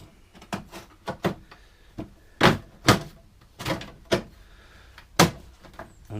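Metal repair section for a Land Rover 110 door being knocked and fitted into place, a string of sharp irregular bangs and clunks, some louder than others, close up with no speech.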